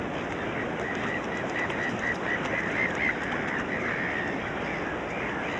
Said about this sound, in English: Along miles of beach, seabirds feast on this overwhelming bounty.